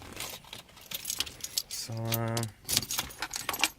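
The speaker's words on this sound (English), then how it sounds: "And my keys are in my pocket, of course." A bunch of keys jangles briefly and close by, a bright metallic rattle between snatches of someone talking.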